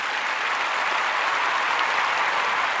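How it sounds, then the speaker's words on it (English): Studio-style audience applause in a science-fiction audio drama set around a colony ship, a dense, even burst of clapping sustained for a few seconds at moderate loudness. "Give yourselves a round of applause for tuning in."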